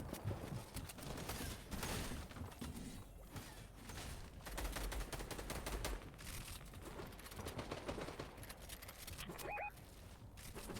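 Rapid gunfire bursts from a shooter video game played in a PlayVS Trios esports match, a dense, continuous barrage of shots through the mix with footstep-like clatter and brief beeps near the end.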